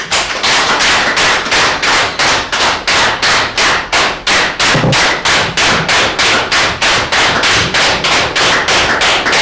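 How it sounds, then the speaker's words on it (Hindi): A group of trainees claps in unison as a welcome during a water supply training session, a steady run of sharp, loud, evenly spaced claps filling the whole stretch with no talk. "अपने लिए स्वागत की तालियां भी बजा सकते हैं"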